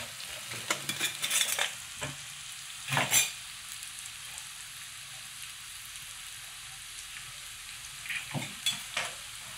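Amul butter with garlic, red chilli powder, coriander powder and garam masala fries in a pan with a soft, steady sizzle, broken by a few clinks and scrapes of stirring.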